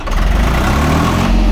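A Swaraj 855 tractor engine runs steadily in first low gear, a loud, close diesel drone with constant low rumble and vibration throughout, no pauses.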